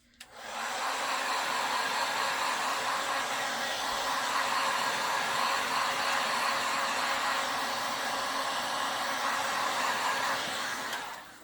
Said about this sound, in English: We're going to dry it first.